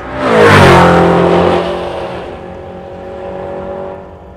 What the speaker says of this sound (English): So this gasser you see on the line is in fact a Nomad.